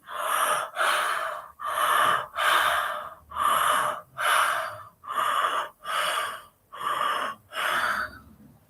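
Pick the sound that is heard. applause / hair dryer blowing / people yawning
people yawning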